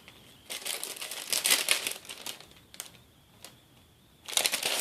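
A wax melt's plastic packaging crinkles and crackles in several bursts as it is opened by hand, close and fairly quiet, with brief pauses between handling sounds.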